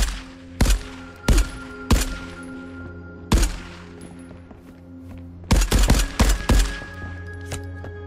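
Gunfire in the video game Marauders: about a dozen loud, sharp shots, some single and spaced, others in quick bursts, ringing out close with no talk.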